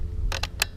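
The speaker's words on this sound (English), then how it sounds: "you can see the battery sort of clunk down, but it doesn't flop out" Three quick mechanical clunks in under half a second, close and sharp, as a key is twisted and the battery of a Bulls SIX50 EVO AM 4 e-bike drops down in its mount.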